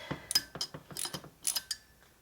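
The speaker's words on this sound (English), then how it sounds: "About what you can get with a short ratchet." A short ratchet clicks in quick bursts as quarter-inch bolts are tightened on the engine case of a 1997 Harley-Davidson Evolution 80ci during a lower-end rebuild. Close and clear, with an irregular rhythm of ratcheting strokes.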